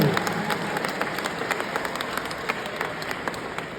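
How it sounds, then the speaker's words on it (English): Sustained applause from a convention crowd after a question at a Comic Con Scotland Q&A panel, a steady dense wash of many hands clapping at moderate distance, with faint voices mixed in. "Can we have a massive round of applause for a wonderful question?"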